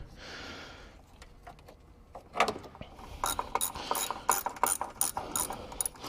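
A ratchet backs out the retaining screws on the radiator shroud of a 5.0 Ford Mustang, giving quick, close clicking bursts in a steady rhythm after a few faint knocks and handling sounds.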